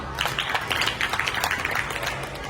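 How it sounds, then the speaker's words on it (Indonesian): Students clapping together in a classroom, a steady patter of many hands for a couple of seconds at moderate volume over a low background hum. "Tepuk tangan untuk Isyam."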